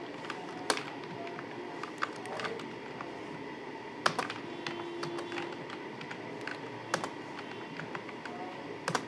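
Typing on a computer keyboard while entering data into an Excel spreadsheet: quiet, close, irregular bursts of key taps with a few louder strikes, steady over several seconds without speech.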